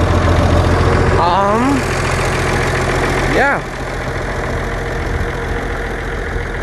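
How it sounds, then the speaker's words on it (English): A farm tractor, just backed into a yard, idles with a steady low engine rumble throughout, loud and close, while someone speaks briefly over it. "tractor's backed up into the yard"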